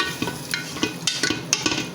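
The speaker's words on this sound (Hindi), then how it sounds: "गोश्त हमारा दही के साथ जो है वो अच्छे तरीके से भुन रहा है" Mutton frying with yogurt in a pot, a low sizzle broken by a quick series of spoon scrapes and knocks as the meat is stirred, close and rhythmic.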